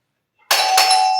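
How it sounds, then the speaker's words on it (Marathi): A doorbell rings once at night in a home, a single sustained electronic chime that starts abruptly after a moment of silence and rings on clearly and close. "बेल वाजली."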